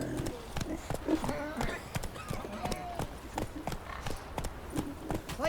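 Horse hooves clip-clop at a steady walking rhythm in the video game The Witcher 3: Wild Hunt, close and clear, with a voice talking over the hoofbeats.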